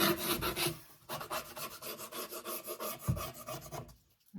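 Masking tape is rubbed firmly down along the edge of a sculpted art panel, a close, rapid, rhythmic scratchy swishing of repeated strokes that pauses briefly and then fades near the end.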